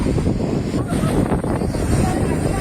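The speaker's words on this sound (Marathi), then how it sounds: "हा तुम्हाला दिसतोय प्रचंड वारा आहे" Strong wind roars at the Kavalesat waterfall near Amboli, a loud, constant rush buffeting the microphone, with a voice speaking over it.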